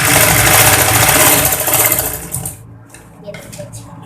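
A sewing machine runs steadily while stitching the turned edge of a homemade surgical-style fabric face mask, loud and continuous for about two and a half seconds before stopping, leaving quieter handling noise.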